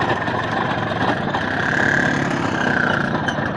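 An Izh Planeta 5 motorcycle engine runs steadily and loudly nearby, holding a continuous rumble with no pauses and a slight swell in the middle.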